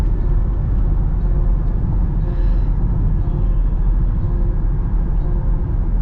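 Cabin noise inside a Range Rover SV with a 4.4 L V8 cruising on a highway: a steady low rumble of road and engine noise with a soft wind hiss, even and unbroken throughout.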